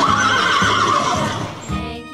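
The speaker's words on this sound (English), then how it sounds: "Horse." A toy horse sounds a loud, continuous whinny that rises and wavers for about a second and a half, then drops into a shorter, lower neigh, with nothing else around it.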